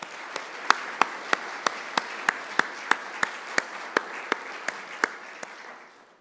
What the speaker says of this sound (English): please join me in giving all of our sponsors a round of applause